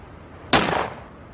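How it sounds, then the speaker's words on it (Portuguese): A single sharp gunshot fired into the air during a Jackie Chan film action scene, loud and close, with a short decaying tail and no voices. "Eu apontei a arma para o ônibus parar e dei um tiro para o alto e... pum!"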